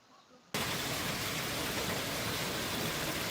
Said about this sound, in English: Hail. It's loud.